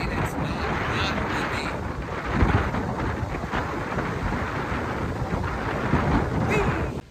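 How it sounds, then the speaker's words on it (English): Strong wind batters the microphone during an outdoor 5k run, a loud, constant low rumble with gusting surges, heard alone without talk. "The wind was crazy."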